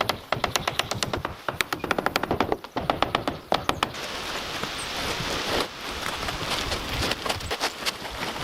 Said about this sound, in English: Using a heavy-duty stapler to fix the waterproof sheet firmly in place.